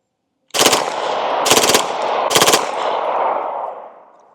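Three loud, sharp bursts of rapid pistol fire from an M&P 2.0 fitted with a Freedom Finger force-reset trigger, spaced about a second apart, with each burst's echo ringing on and decaying slowly at the end.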